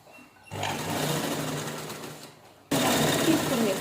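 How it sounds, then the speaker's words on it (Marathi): A sewing machine stitches a saree cover in bursts, its fast rattling whir starting, easing off briefly, then resuming louder and close up, with no talking over it. "पूर्ण राऊंडला छान असं स्टिच करून घेऊया"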